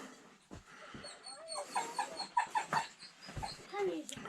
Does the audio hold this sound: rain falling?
no